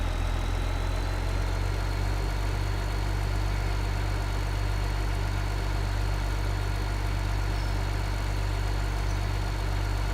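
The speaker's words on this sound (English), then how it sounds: "These tractors, they don't have a lot of poop to them, but they have a good sound to them." Tractor engine idling in the Farming Simulator 2015 video game, a continuous low, even drone with a steady hum that stays at a constant level throughout, no talk.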